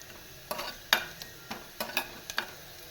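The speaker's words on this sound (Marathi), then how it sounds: "ही डाळ ढवळायची आणि डायरेक्ट फोडणीत टाकायची" Dal poured and stirred into a sizzling tempering of reddened garlic, giving a quiet, bursting sizzle with several sharp crackling surges over a few seconds and no voices.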